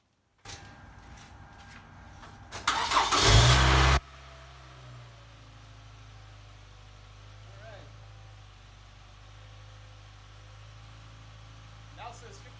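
A car engine cranks briefly and catches after a jump start from a DBPOWER DJS50 portable jump starter, then settles into a low, steady idle.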